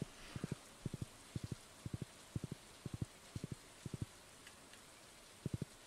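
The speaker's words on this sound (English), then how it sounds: "Especially because it's raining." Soft rainfall in the modded farming game Stardew Valley forms a faint, steady hiss beneath regular triple-beat thumps repeating every half second or so.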